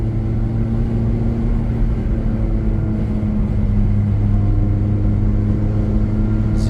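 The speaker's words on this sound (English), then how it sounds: "Put it back into auto. Just let the car do the shifts for me." A 2006 Ferrari F430 Spider driving in automatic mode gives a loud, steady engine drone and road rumble heard from inside the car, with a slight shift in tone partway through.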